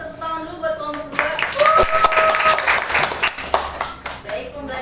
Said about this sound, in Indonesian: kasih tepuk tangan dulu buat kelompok 2